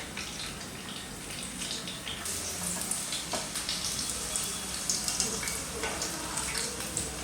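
Onions frying in hot palm oil, a steady crackling sizzle with bursts of spattering that holds close and fairly loud throughout.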